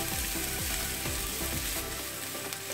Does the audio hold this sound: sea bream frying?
yes